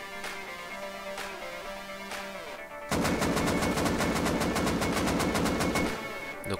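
Automatic weapon fired while standing still in the game Rust: a loud rapid burst of evenly spaced shots lasting about three seconds, preceded by a few single mechanical clicks and a background hum.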